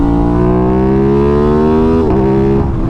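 A 2021 Aprilia RS660 600-class sport motorcycle engine revs loud and close, its throaty tone climbing steadily in pitch, then dipping briefly as the throttle shifts before rising again.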